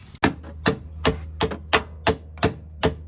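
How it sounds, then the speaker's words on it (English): Eight sharp metallic hammer strikes on a metal part during a 3rd-gen Toyota Tacoma suspension install land at a steady, fairly quick pace, close and loud, with a low hum underneath and no talking. "we are hammering it back now, just as much as we can"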